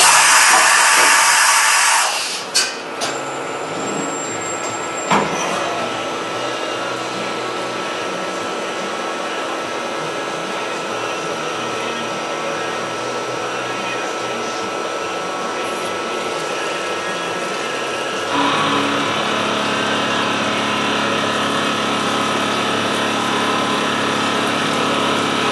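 A milling machine cuts steel with a half-inch end mill, a steady high whining machining drone running on and on, preceded by a brief burst of noise and a shift in pitch partway through.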